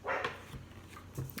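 A dog barks indoors, two or three quick yips and woofs, fairly faint and slightly distant, over a low background hum.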